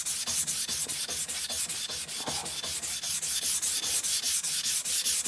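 A knife blade's bevel is rubbed back and forth on a vitrified sintered diamond whetstone during flattening, making steady, rapid rhythmic scraping strokes, close and loud, with no talking.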